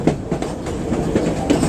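A passenger train rolls along steel rails on a mountain trip, a steady loud rumble with rhythmic clickety-clack wheel beats repeating every fraction of a second.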